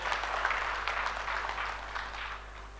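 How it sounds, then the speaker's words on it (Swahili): An audience at a conference of secondary school heads gives a burst of steady applause that thins out slowly toward the end, with no voices over it. "tumuongezee tena mengine makofi"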